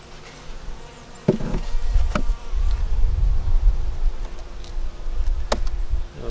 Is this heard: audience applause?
no